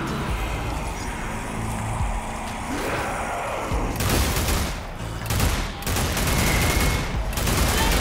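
Pistol shots from the Zombie Army 4 video game ring out as a few sharp, moderately quiet cracks spaced a second or two apart over a steady background rumble.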